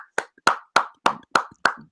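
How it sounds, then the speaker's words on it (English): Six sharp, evenly spaced hand claps from a single nearby person, loud and isolated with brief silences between each clap. "So let's give him a round of applause for that."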